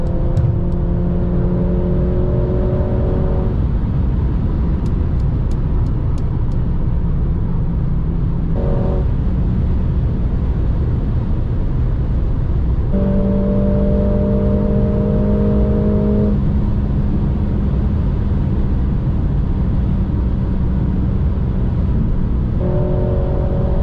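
A 2021 Mercedes-AMG GLA 45 S with 4MATIC+ accelerates hard, its engine loud and close, rising through repeated surges with gear shifts between pulls over a steady road roar.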